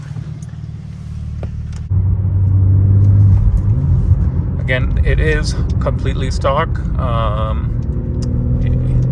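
A stock 2024 BMW G80 M3 with manual gearbox rumbles steadily while driving, engine noise swelling after a quiet start, with someone talking over it inside the car.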